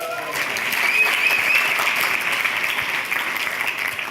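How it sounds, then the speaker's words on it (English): An audience at a global health talk breaks into a round of applause, dense steady clapping from many hands that holds at full strength throughout, close and without speech. "Great, give him a round of applause."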